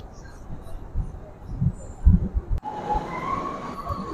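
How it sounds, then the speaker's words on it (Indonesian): An LRT or KTM commuter train at a Malaysian airport terminal, rumbling and clattering nearby with a brief squeal of wheels and a sustained whining tone as it moves. "Ini dia LRT kalau tak silap."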